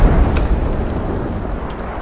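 An IED detonation in the Squad military video game, heard as a loud, rumbling blast that hangs on as a sustained low roar over about two seconds, with a few faint sharp crackles on top and no voices.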